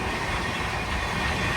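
A passenger train on a Kerala to Delhi run travels at high speed, giving a steady, loud broadband roar of wheels and carriage rumble with no pauses.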